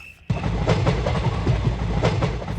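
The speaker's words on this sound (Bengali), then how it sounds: "বিকেলের ট্রেনটা চরকতলা স্টেশনে সময় মতোই পৌঁছালো" A train sound effect cuts in abruptly after a short quiet moment. The carriages rumble along with a rhythmic clickety-clack, loud and close, with no talk over it.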